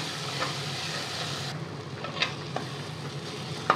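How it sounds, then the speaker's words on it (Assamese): Mustard paste fries in a pan with a steady, soft sizzle that holds through the moment, with a few faint stirring clicks and scrapes near the end. "আৰু এইফালে মই সৰিয়হৰ বটাখিনি এনেদৰে ভাজি ল'ম"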